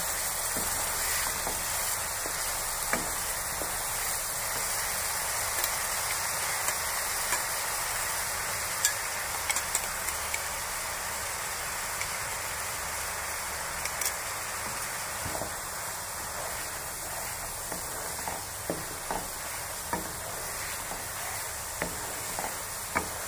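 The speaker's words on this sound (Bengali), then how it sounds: "পেঁয়াজ আর কাঁচা লঙ্কাটা ভালো করে ভেজে নিতে হবে" Onions and green chillies fry in a pan over high gas flame, a steady close sizzle with occasional stirring clicks running throughout, no talk.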